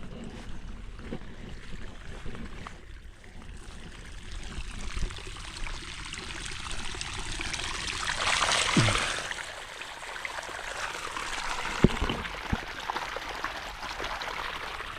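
Irrigation water flows and pours onto a farm field, a steady rushing wash with a louder surge midway and a few splashy knocks, heard alone.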